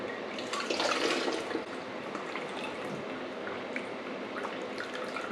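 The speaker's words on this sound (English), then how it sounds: "transferring it over into the strainer until I get this roaster pan emptied." Bone broth being poured from a roaster pan into a strainer, a steady close splashing and trickling of liquid, strongest early on and then settling to a continuous flow.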